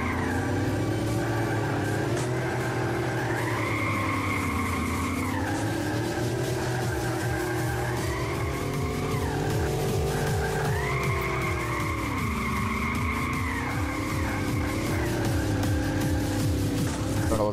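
Cars drift and skid around a small track in the racing game MiniTracks, with a steady loud engine whine and sweeping tire squeals rising and falling throughout, no voices over it.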